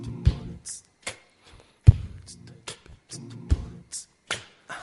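Body percussion of hand claps, chest taps and finger snaps played in a loose repeating pattern, sharp dry hits separated by short silences, with a faint voice in the background.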